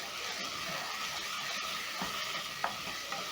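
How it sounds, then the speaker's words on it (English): Onions, garlic, ginger, tomato and carrots frying in a pot for vegetable pilau, a steady close sizzle with occasional stirring scrapes and a few small pops. "Stir in and let the onions, garlic and ginger cook until fragrant and a little bit golden brown."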